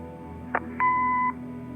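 An answering machine in the Kathy Rain video game sounds a short click followed by a single clean electronic beep lasting about half a second, loud against a quiet background hum.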